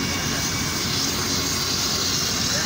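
Helicopter on an open field, heard as a steady broad engine and rotor roar at moderate distance, continuous and unbroken with no voices.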